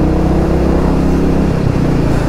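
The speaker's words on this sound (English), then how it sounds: "that little engine burbling beneath me" A Royal Enfield Meteor 350 single-cylinder engine burbles steadily underneath while riding, a continuous low throbbing rumble close by with a slight shift in tone partway through.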